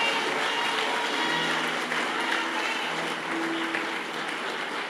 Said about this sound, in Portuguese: Dá para dar uma salva de palmas para Jesus aí?